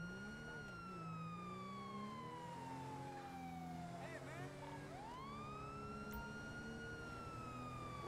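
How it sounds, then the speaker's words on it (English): A wailing video-game police siren sweeps up and down over engine noise, a second siren rising in partway through, fairly distant and steady. "saying you hear the sirens, get out of the way"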